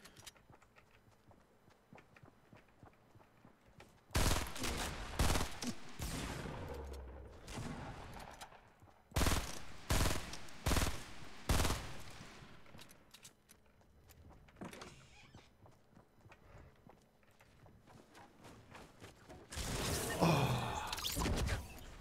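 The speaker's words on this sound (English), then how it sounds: "Nice shooting, Tex." Bursts of gunfire in the battle royale game Fortnite come in separate clusters of sharp shots, some dense and loud, others sparse, with quieter stretches between them.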